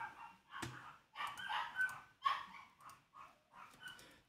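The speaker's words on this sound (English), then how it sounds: "Sorry if you hear my dogs." Dogs bark in a rapid series of sharp, overlapping yaps and whines, several bursts close together, fairly faint and indoors with no talking.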